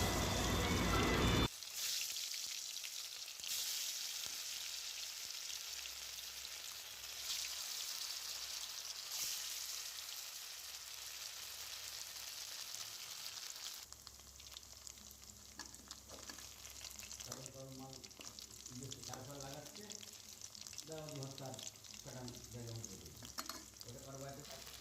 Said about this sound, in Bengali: এখন একটা একটা করে কোপ্তা দিয়ে দেবো তেলের মধ্যে, দিয়ে ভালো করে ভেজে নিতে হবে।